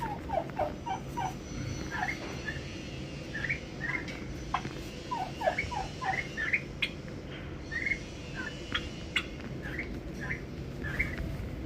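Half-grown turkey chicks kept as backyard poultry in Saudi Arabia give repeated short, high gobbling chirps in irregular bursts, moderately near, with no talking over them.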